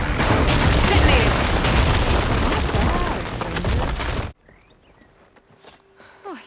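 A loud, dense rumbling blast from Horizon Forbidden West: Burning Shores roars up close for several seconds, then cuts off abruptly into near quiet with faint scattered game sounds and voices.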